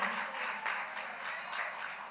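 Congregation at a Saturday church rally claps hands together, a soft, fairly distant and steady patter of many claps with a few sharper accents.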